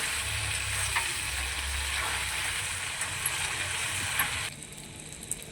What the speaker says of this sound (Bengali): চিকেন দিয়ে খুঁটি দিয়ে ভালো করে নাড়িয়ে নেব